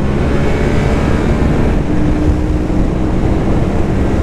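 Steady, loud roar of wind and road noise from a Yamaha MT-07 motorcycle ridden over a bumpy road, a dense continuous rush with an engine drone underneath and no talking.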